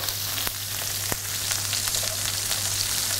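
Prawns frying in oil in a pan give off a steady, close sizzle with brief crackles and spits popping through, no voices over it.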